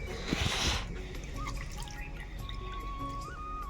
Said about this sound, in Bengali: কামরাঙাগুলো ধুয়ে হচ্ছে এখন